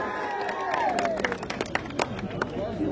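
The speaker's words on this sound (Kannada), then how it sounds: "ಜೋರ ಚಪ್ಪಾಳೆ ಹೊಡೀರಿ" Crowd at a groundbreaking ceremony for development works clapping to welcome the district minister, scattered, uneven claps under a loud voice talking over them.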